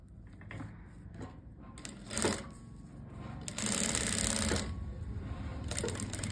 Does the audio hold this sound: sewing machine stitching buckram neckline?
yes